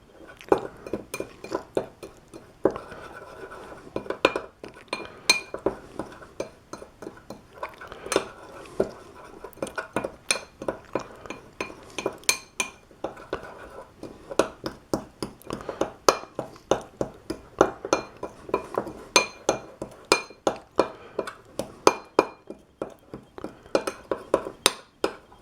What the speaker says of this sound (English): I'm going to take a spoon, mix this all together so the dry and the moisture are all mixed real well.